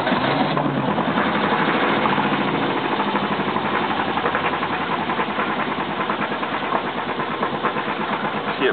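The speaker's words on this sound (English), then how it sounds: "It's got a Volvo two-cylinder engine in it" Volvo two-cylinder engine in a Beneteau First 310 sailboat, started and running at a steady idle with a fast, even knocking chug, close and continuous.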